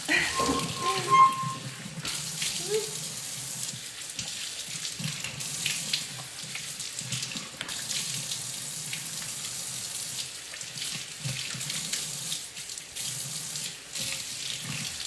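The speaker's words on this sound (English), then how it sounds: "So all of you know that rinsing at my sink is one of my least favorite things." Water runs steadily from a bathroom sink faucet during a skin rinse, a close splashing hiss that stays loud throughout, with irregular bursts of splashing.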